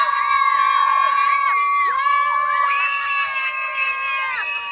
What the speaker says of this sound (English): Let me hear you fucking yell.